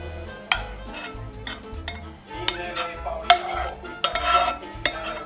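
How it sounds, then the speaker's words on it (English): Spaghetti sauce stirred together in a pot, with a utensil clinking and scraping against the sides in uneven bursts, close and moderately loud over a low steady hum. "And then we'll mix it all together really well."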